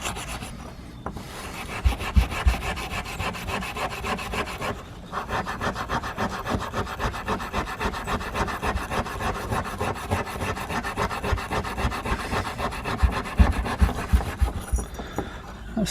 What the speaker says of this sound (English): So we'll just rub from this side. If you keep going, it will come clean.